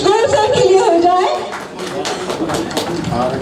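Audience applause at an award ceremony, dense steady clapping filling the room, with voices and chatter mixed through it, slightly thinning partway before continuing.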